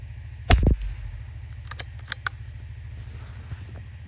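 A single sharp pellet gun shot fired at a squirrel outdoors, close and abrupt, followed by a few faint clicks over a steady low background hum.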